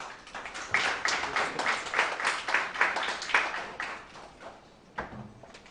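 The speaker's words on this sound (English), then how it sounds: "Another round of applause" Audience applause at a Ugandan ICT workshop: a steady round of clapping from a seated crowd that swells, holds for several seconds, then thins to a few scattered claps near the end.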